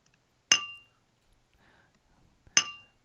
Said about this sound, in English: Look at that improv with the bells.